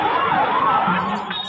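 An ambulance siren wails steadily and loudly while the vehicle passes through the dense Rath Yatra festival crowd in Puri, with the crowd's murmur underneath.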